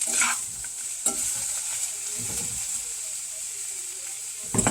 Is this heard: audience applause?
no